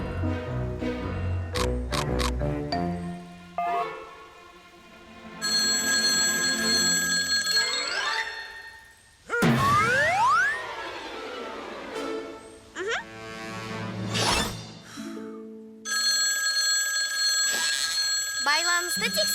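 A mobile phone in a cartoon rings with loud ringing tones and chimes in several bursts, interleaved with musical sweeps and effects; voices speak between them.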